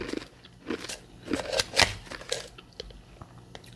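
Hard ice is chewed up close, crunching into a huge super-hard chunk in irregular sharp cracks and crackles, loudest in a burst near the middle, with no talking.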